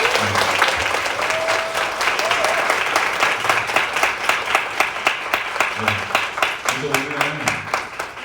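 Audience applause opening a proposal meeting event, a steady dense clapping that runs the whole time, with a voice briefly speaking over it near the start and again toward the end.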